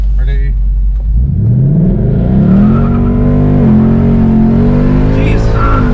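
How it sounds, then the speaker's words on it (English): A Ford Mustang 5.0 with a 10-speed transmission launches hard in drag mode, its V8 engine roaring up through the revs from idle in a loud, rising, close-up pull, with brief tire chirp and voices inside the car. "Here's drag mode. Alright, we're in drag mode."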